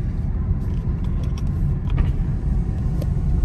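A Dodge Scat Pack cruises through a neighborhood with a deep, steady engine rumble heard from close by, plus a few light clicks and road noises over its low burble.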